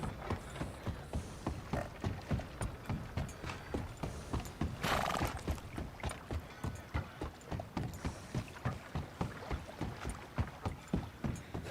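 Steady clip-clop of horse hooves on a hard surface in Red Dead Redemption 2, an even walking rhythm throughout, with a brief rushing noise in the middle.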